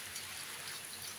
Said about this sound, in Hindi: ये रात को बारिश हो रही है हमारे घर के बाहर